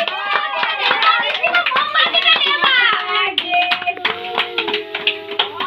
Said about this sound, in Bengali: একটু জোরে হাততালি করে রেখো।